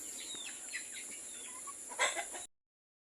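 Chickens and chicks cluck and peep softly nearby, with scattered short calls and a slightly louder burst near the end before it cuts off.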